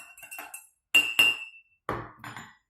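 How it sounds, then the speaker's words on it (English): A spoon stirring coffee knocks against the cup in a few sharp, close clinks that come in irregular bursts separated by brief silences. "that's the sound of me stirring my coffee."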